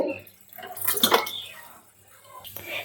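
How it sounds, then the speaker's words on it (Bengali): Water poured into a pan of simmering Bengali fish curry, a short splashing burst rising and fading, with faint kitchen background hum. "এবার দিয়ে দেব পরিমাণ মতো জল"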